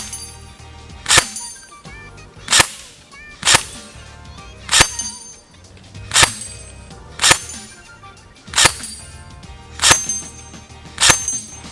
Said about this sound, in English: as soon as I just hunkered down and got a little bit more stable, almost all of the shots hit